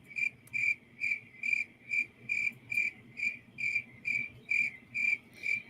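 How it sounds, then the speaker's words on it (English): Crickets chirp outdoors at night in a steady, regular pulse, about two chirps per second, clear and moderately close against a quiet background. "Can y'all hear the crickets?"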